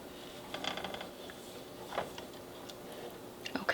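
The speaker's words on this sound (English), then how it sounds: "I'm just going to whisk those in" A whisk stirring fresh herbs into a pan of homemade Alfredo sauce, with quiet rapid clicking and scraping strokes close by, in uneven bursts.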